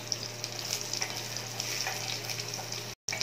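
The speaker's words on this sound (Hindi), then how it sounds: "तो ब्राउन होने तक फ्राई करेंगे।" Chopped onions frying in a pan for a Rajasthani laal maas, a steady soft sizzle with faint crackles and a low background hum, cutting out briefly near the end.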